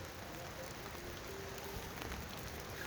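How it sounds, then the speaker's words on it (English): Rain pattering steadily on hammock tents in Mammoth, a constant soft hiss of drops close by with no talking. "We didn't think we were going to test out rainy weather this soon."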